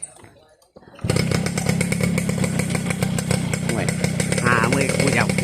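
A motorcycle engine drones loudly and continuously after a brief quiet start, with a buzzing, revving tone and voices talking over the ride.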